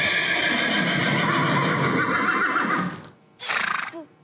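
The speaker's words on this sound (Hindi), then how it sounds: "ये था घोड़ा।" A horse whinnies loudly and close for about three seconds, with a shaky drawn-out neigh, then falls briefly quiet before a shorter second whinny closes out the clip, with no talking.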